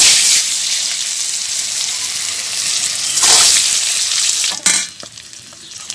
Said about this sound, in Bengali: ডিমটা ভাজি করবো